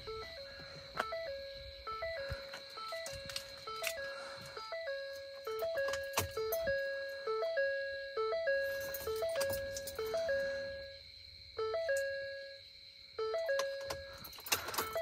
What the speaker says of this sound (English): 2010 and newer, Ford has had the A major chord chime, and these both have it.